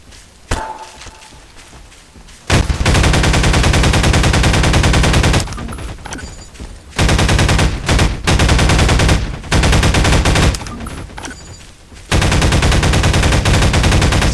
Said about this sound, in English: Let's try a machine gun.